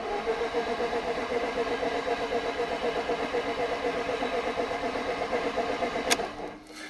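A Mazda RX8 rotary engine cranks over on a Varta N72 battery with a steady, rapid, rhythmic chugging from the starter that runs for about six seconds, then stops abruptly, leaving a quieter tail.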